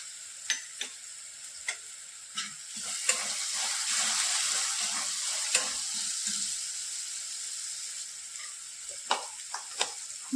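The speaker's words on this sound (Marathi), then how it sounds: "मिरची लसणाचं वाटण छान परतलंय." Chili-garlic paste sautéing in a pan for matar kachori filling after turmeric and coriander powder go in, a steady close sizzle with scattered ticks and scrapes of stirring, no talking.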